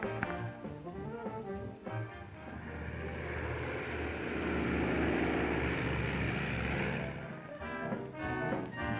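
Propeller airplane flying overhead at an airfield, a broad droning engine roar that swells to a peak mid-way and then eases off, with faint background clatter and no talk.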